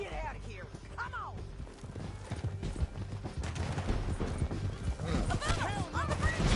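Galloping horse hooves thud in the Red Dead Redemption 2 epilogue, rhythmic clip-clop mixed with gunfire, a horse whinny and shouted voices in a tense action scene.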